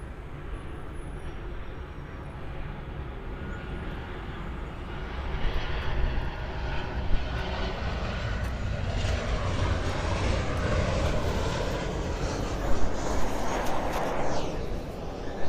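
An airliner takes off from runway 25 right at Los Angeles International Airport, its engine roar heard from outdoors as a broad, rumbling wash that swells gradually louder and stays strong.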